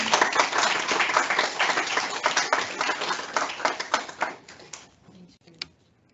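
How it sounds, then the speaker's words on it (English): A modest audience at a closing event for an academic spring program gives a round of applause, brisk and fairly close, thinning into a few scattered final claps before it stops. "We want to give a round of applause."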